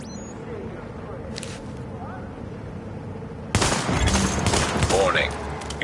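Gunfire in a PS4 video game, quieter scattered shots at first, then a loud burst of rapid automatic fire and shooting, busy and sustained to the end.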